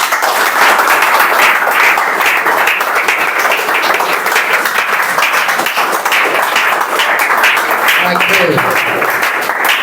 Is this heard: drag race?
no